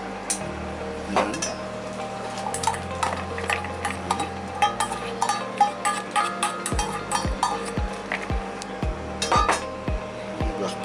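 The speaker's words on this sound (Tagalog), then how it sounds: "I-mix ko po ito." Ingredients for pinaputok na tilapia are mixed in a bowl, with a steady run of clinks and scrapes from a utensil against the dish, close and fairly loud, and a few heavier knocks, with no talking.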